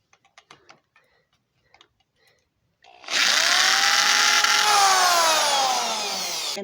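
After a few faint clicks of handling, a power driver whirs loudly and close, then winds down in pitch as it drives a self-tapping screw into a balloon photo frame.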